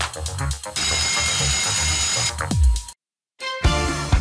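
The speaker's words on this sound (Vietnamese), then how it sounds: "Tôi ở đây là đồng hồ báo thức." An alarm clock rings in loud, steady bursts with a dense buzzing quality, pausing briefly to near silence before starting again.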